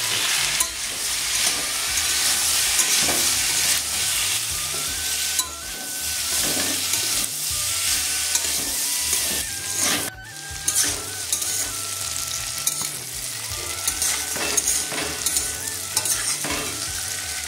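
Steady, loud sizzling of cauliflower and potatoes frying in a pan, with occasional stirring scrapes throughout and no talking.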